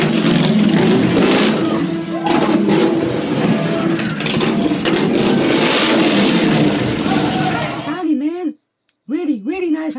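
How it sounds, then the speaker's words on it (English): A big Harley-Davidson motorcycle engine roars loudly and steadily up close, revving hard for several seconds under voices before cutting out briefly and kicking back in. "You need a big, a really big Harley Davidson motorcycle."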